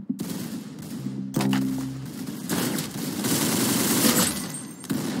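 Rapid gunfire in the Roblox game Arsenal, a dense stream of shots running almost continuously for several seconds.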